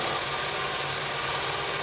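A hole being drilled in a metal part for a Boll Aero 18 model diesel engine gives a steady, continuous machining whir with a thin high squeal, close and even throughout, with no talking.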